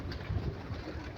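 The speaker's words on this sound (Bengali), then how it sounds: "এগুলা সবই গোলা পায়রা, এগুলা বিদেশি পায়রা না, সব দেশাল মতন পায়রা" Local rock pigeons give a brief, soft, low cooing murmur close by, lasting about a second.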